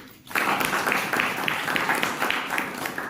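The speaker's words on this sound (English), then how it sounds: "Can we have a quick round of applause for Toastmaster Vaishak and our table topic speaker, Arvind?" An audience at a Toastmasters club meeting gives a quick round of applause for the Toastmaster and a table topics speaker, a steady wash of many hands clapping that starts abruptly and holds for about three seconds.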